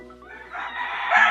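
Rooster crowing with chickens clucking on a family farm, a single rising crow building louder toward the end over a soft backdrop of clucks, alone and fairly close.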